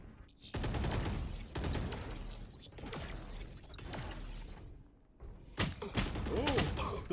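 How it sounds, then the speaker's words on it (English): Grenade and gunfire sounds from a Valorant match: a loud barrage of sharp shots and thuds with dense rapid bursts, a short lull, then more impacts, mixed over continuous game effects and a talking commentator. "Grenade out."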